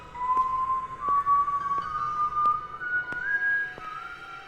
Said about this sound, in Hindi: सीटी बजाता हुआ बाहर आया।